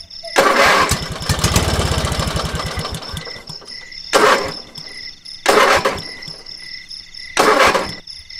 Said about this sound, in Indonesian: Motor biru yang kugunakan terbatu dan berangsur mogok.